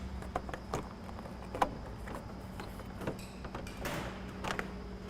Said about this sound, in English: we're just going to take out this trim piece